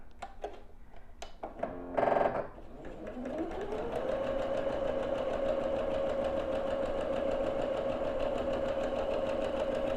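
A sewing machine stitches quilt borders with a 1/4 inch seam set. It starts after a brief clatter and then runs at a steady, fairly quiet hum with a rapid mechanical pulse for the rest of the clip.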